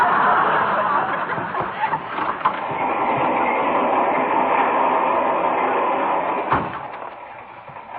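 A fast-moving passenger train is rendered as a radio sound effect, a steady rumbling rush of wheels and carriage noise with a few clacks and a brief bump, under faint background voices.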